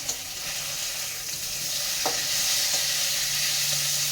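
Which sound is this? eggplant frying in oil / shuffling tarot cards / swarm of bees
eggplant frying in oil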